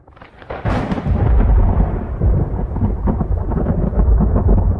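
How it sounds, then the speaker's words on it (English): A thunderstorm sound effect for a channel trailer opens with a sharp crack, then rolls into a long, loud rumble of thunder over steady heavy rain. No voices are heard. "adding in the storm effect"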